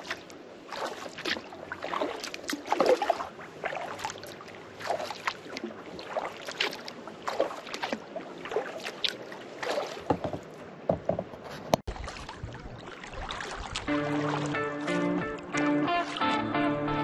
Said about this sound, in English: After just an hour of relaxed paddling